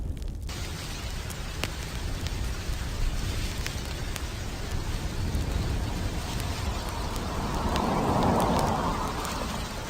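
Heavy rain during flash floods in northern Iran, a dense, steady hiss of downpour that swells slightly toward the end, continuous and without voices.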